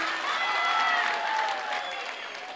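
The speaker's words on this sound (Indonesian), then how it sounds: "Tepuk tangan dulu dong Mat Mumpuni." An audience claps continuously, a dense steady wash of applause that fades slightly toward the end.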